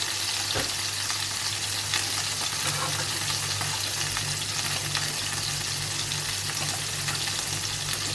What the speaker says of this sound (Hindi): मैंने ये तीनों स्टेक जो थे, तीन पीसेस मैंने इसके अंदर डाल दिए ग्रिल पैन में। अब ये कुक हो रहे हैं।